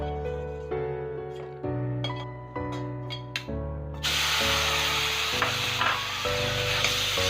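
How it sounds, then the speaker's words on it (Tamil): Chopped apples hit a hot pan and are sautéed for apple halwa, a loud steady sizzle with scraping stirs, preceded by a few soft taps over background music. "இப்போ இதிலே நம்ம ஆப்பிளும் போட்டு நம்ம வதக்க போகிறோம் நல்லா"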